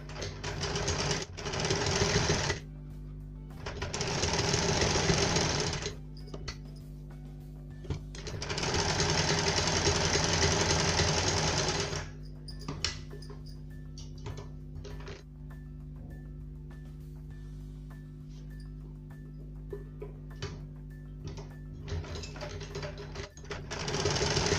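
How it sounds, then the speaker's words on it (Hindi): A sewing machine stitches the armhole and shoulder seams of a cowl neck top in several loud, fast-running bursts separated by quiet pauses and small handling clicks. "तो हम आर्म होल और शोल्डर्स पर सिलाई लगा लेते"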